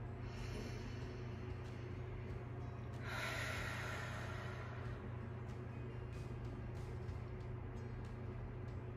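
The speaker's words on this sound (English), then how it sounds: "Take a deep breath." A single deep breath drawn in and let out during a calm guided tapping exercise, soft and close against a steady low hum, with no talking.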